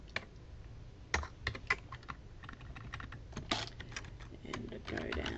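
Quick bursts of close keystrokes on a computer keyboard while an address is entered during domain name registration, irregular clusters of clicks with short pauses between them.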